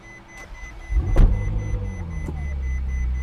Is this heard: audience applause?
no